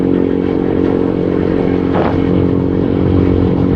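A motorcycle on a long road trip from Manila to Mindanao, its engine droning steadily and loud throughout with a brief passing whoosh midway, no talk over it.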